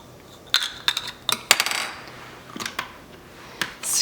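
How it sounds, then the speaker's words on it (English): A plastic lid pressed onto an olive oil mister bottle holding basil and garlic, heard as a scatter of sharp close clicks and small clattering taps in irregular bursts, with no talk. "I'm going to press my lid on."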